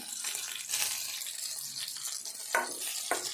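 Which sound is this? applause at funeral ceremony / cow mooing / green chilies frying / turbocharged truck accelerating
green chilies frying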